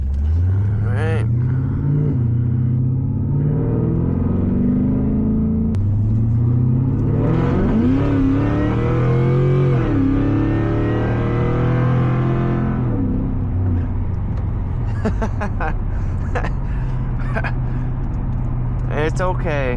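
A 650 wheel-horsepower Cadillac CTS-V with a new exhaust roars loudly from inside the cabin, revving up in a rising, sweeping pull before settling back to a heavy rumble, with people talking over it.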